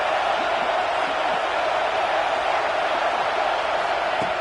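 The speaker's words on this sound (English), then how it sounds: "here comes the noise. This crowd is trying to inspire this defense to make a big red zone stop." A football stadium crowd roars steadily to fire up the defense for a red zone stop, a dense, loud, unbroken wash of cheering with no distinct voices.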